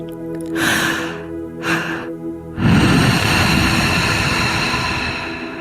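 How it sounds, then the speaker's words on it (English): During a guided breathwork meditation, a person breathes deeply and close by: two airy inhales, then a long, loud, sustained exhale that slowly fades. "Keep on breathing, going deeper and deeper and deeper."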